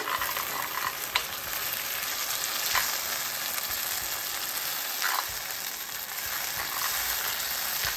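Tomato puree sizzles steadily in a pan of onion-chilli masala as it is stirred in, a continuous close frying hiss with soft scraping strokes at intervals and no talking.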